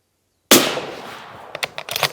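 One loud, sharp report from a Mauser M18 rifle fired outdoors in Scotland cracks suddenly and rings out in a long fading tail, followed by faint clicks and handling noise.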